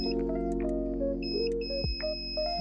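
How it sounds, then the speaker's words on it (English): A steady multimeter continuity beep tone sounds over a constant low hum while testing a light bulb, with a brief pitch drop near the end before the tone resumes. "Then we'll press the special function so that we can hear the audible beep."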